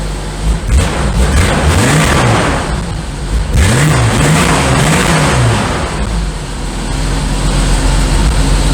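A loud car engine, started with a Topdon JumpSurge 2000 jump starter, runs close by, revving up and down in rising and falling sweeps over a steady rumble.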